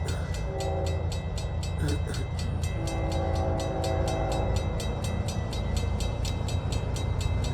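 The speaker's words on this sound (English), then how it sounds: "Here comes the train." A train rolling past close by with a continuous loud rumble and clatter, sounding its horn in two long multi-tone blasts over the steady rail noise.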